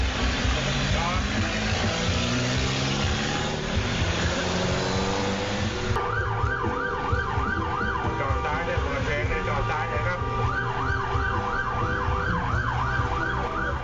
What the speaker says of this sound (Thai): ตำรวจทางหลวงอยุธยาเปิดไซเรนเลยครับ